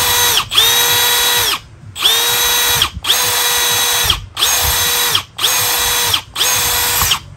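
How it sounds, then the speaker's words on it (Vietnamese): A Milwaukee M18 brushless three-function cordless drill runs in six or seven loud, close bursts of high steady whine, each spinning up sharply, holding, then cutting off with short pauses between. "có búa phan tường phan bê tông, bắn vít phan gỗ phan sắt, động cơ không than"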